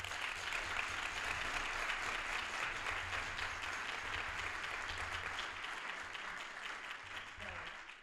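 Audience applause for an award recipient at a ceremony, sustained dense clapping across a hall, steady then slowly fading toward the end, with faint voices underneath.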